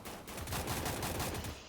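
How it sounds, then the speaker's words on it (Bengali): Gunfire in the Free Fire video game: a rapid, continuous burst of automatic shots, loud and close, lasting the whole moment, with no talking over it. "আমি তো আগে ফায়ার দিছি"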